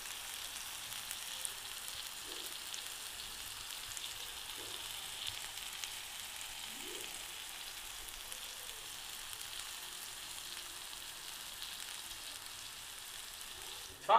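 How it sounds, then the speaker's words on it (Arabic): Potatoes frying in hot oil give a soft, steady sizzle, faint and continuous, with a few small crackles and no talking. "أي والله راهي تقلى"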